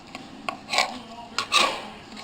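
A knife slices through green onions on a cutting board, giving a few short, soft rasping chops in two brief clusters, fairly close and quiet.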